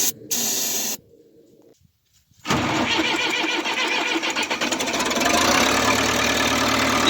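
A 24V excavator engine, jump-started from a 12V truck and given starting fluid, goes through a short spray hiss and brief cranking with a pause, then catches and runs at a loud, steady rumbling idle.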